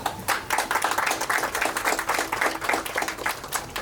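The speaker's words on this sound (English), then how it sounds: "give a great round of applause for our committed team here for that wonderful job" Audience at an elephant twin babies naming ceremony claps steadily, a dense run of hand claps that stays fairly even and close throughout, with no talk over it.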